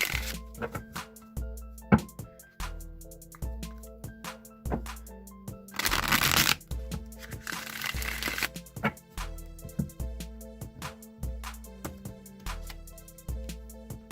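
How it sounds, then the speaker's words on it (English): Rider-Waite tarot cards being shuffled in crisp riffling bursts, close up, with soft taps and clicks between them over a gentle musical background. "now I'm going to shuffle the Rider-Waite deck"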